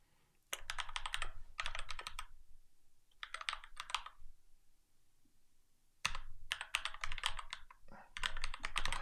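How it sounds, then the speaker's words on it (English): Someone types on a computer keyboard in quick, close bursts of clicking keystrokes separated by short pauses, fairly quiet, with no talking. "I guess I can't type and talk at the same time."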